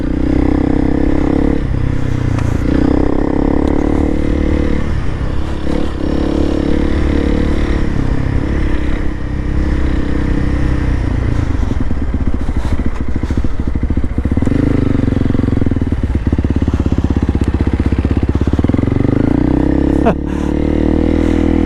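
A Honda CRF300L Rally motorcycle pulling hard in third gear, its engine a loud continuous grunting drone with rattling and wind roar that dips briefly near the end.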